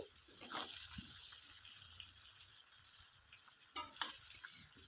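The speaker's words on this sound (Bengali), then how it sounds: "সমস্ত কুচানো বাঁধাকপিগুলো দিয়ে দিলাম দিয়ে আবারও সবজির সাথে এই বাঁধাকপিগুলো ফ্রাই করে নিচ্ছি" Shredded cabbage and mixed vegetables fry in a pan, giving a soft steady sizzle with occasional stirring scrapes and a couple of brief louder clatters, quiet and without talk.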